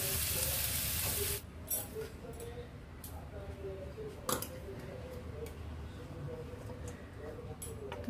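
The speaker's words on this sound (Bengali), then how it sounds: "খুব বেশি ভাজবো না, জাস্ট একটু নাড়াচাড়া করে নিলাম" Chicken sizzling in a hot pan while being stirred, with a burst of loud frying at the start that settles into steady crackle and light scraping ticks from the spoon, and a voice faintly in the background.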